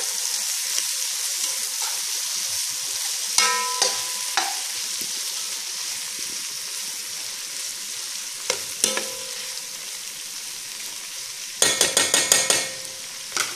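Garlic, onion and tomatoes fry in a pan with a steady sizzle while a utensil stirs them, scraping and knocking against the pan in a few sharp bursts, the busiest rattle coming near the end.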